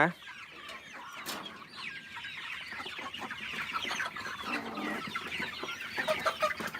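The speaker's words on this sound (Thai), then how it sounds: "คุณน้ากำลังจะให้อาหารไก่ แม่ไก่" A flock of hens clucks and chatters nearby while being fed, busy overlapping calls building louder toward the end.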